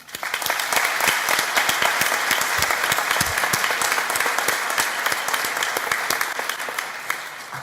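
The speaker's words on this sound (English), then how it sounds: "Please join me in applauding all these people who have helped you in your achievement." Sustained audience applause at a college graduation ceremony, dense steady clapping from a large crowd with sharp individual claps standing out, holding level throughout without speech.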